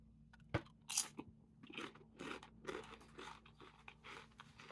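Plain corn chip with no salt or seasoning crunched between the teeth: a sharp bite crack, then a run of close, crisp chewing crunches in uneven rhythm, with no talking.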